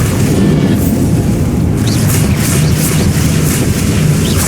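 Bombarda spell explosion in Hogwarts Legacy during a battle at Hogwarts, a loud sustained rumbling boom with roaring broadband noise filling the whole moment.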